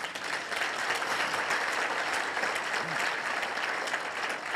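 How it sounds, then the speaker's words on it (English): A conference audience gives the steering committee a sustained round of applause. The clapping is steady and dense throughout, heard from within the hall. "we don't clap strongly for the steering committee"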